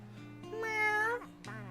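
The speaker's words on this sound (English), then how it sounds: "Hey, look, it's that cat from before." A single drawn-out meow from a cat in the video game Dyscourse rises and falls over a low steady background drone, short and clear.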